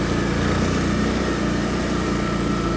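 A four-wheeler ATV engine running steadily while driving, a loud continuous buzzing drone close by with no breaks.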